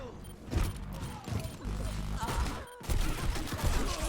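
Junkrat's bombs burst in rapid succession during an Overwatch match, a dense barrage of thumps and crackling blasts layered over continuous game noise and mechanical clatter.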